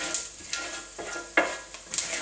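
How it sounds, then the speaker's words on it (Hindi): Coriander, cumin and nigella seeds hit hot oil in a pan while paneer bhurji is being made, giving a brief crackling sizzle with a few sharp pops and stirring noises, close and fairly quiet. "अब हम इसमें धनिया, जीरा, कलौंजी के बीज जो लिए थे वो डालेंगे।"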